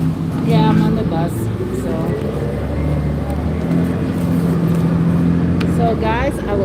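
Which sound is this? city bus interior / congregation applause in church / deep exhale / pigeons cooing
city bus interior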